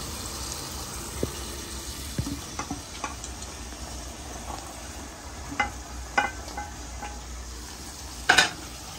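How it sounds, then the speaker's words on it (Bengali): Soft sizzling under scattered spoon taps and scrapes as potatoes are stir-fried with spices in a pan for Bengali-style mrigal fish curry, faint and close, with one sharper clatter near the end. "আলু দিয়ে মশলার সাথে ভালো করে কষিয়ে নিচ্ছে।"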